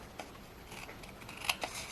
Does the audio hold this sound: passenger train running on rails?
no